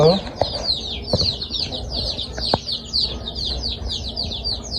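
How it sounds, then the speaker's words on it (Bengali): Chicks in a chicken coop chirping in rapid, repeated high peeps, with a few sharp knocks and rustles underneath, fairly close and moderately loud throughout. "এই বাচ্চাগুলো অতিরিক্ত শব্দ করে"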